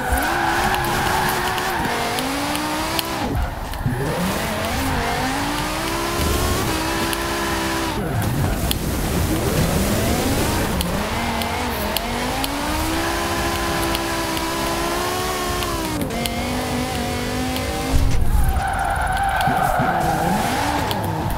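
In the video game Forza Horizon 4, tires squeal and skid continuously as a car slides through drifts on snow, engine revving up and down in long sweeping pitches, loud and close throughout.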